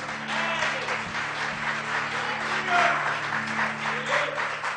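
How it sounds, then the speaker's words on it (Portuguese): Audience applause at a church gathering of pastors, a moderate wash of clapping under a low steady hum, with voices faintly audible within it. "Se for para aplaudir, aplaude a Jesus"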